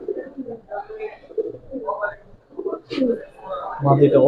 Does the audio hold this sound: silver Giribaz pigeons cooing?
yes